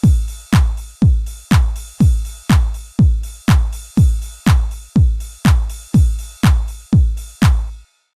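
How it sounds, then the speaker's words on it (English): A basic house drum pattern of kick, clap and ride cymbal loops steadily at an even pulse of about two hits per second, each punchy and decaying, loud and alone before cutting off cleanly. "I have a basic kick, clap, and ride cymbal pattern that sounds like this"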